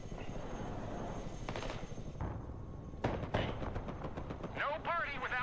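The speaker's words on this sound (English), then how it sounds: "I got artillery fire now" Artillery fire booms in the Broken Arrow war game, several sharp blasts and crackling shots over a rumbling battle background, with a whistling sweep near the end.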